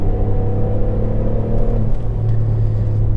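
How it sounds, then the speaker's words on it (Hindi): A tuned Skoda Slavia 1.0 TSI with a stage 1 remap revs hard, a loud steady engine drone that rises and holds with no talking over it. "एकदम रेड लाइन तक अग्रेसिवली रेफ कर रहा है इंजन"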